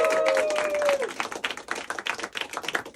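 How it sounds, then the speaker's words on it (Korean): Audience applause at a small screening event in a park venue, a burst of many hands clapping with scattered voices mixed in, following a brief tone at the start. "박수 박수."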